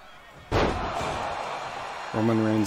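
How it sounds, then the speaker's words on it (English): Wrestler slammed to the mat in the video game WWE 2K22, a heavy impact thud followed by sustained crowd-like roar, then a louder tonal crash near the end. "Roman Reigns starts this match off by slamming Dawkins down to the mat"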